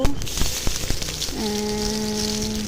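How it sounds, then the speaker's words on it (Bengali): Onion and garlic hitting hot oil with a dried chilli, scattered crackles and spits that settle into a steady sizzle, with a faint tonal hum in the second half. "পেঁয়াজ আর রসুন। এটা তো লাল করে ভাজে নিব।"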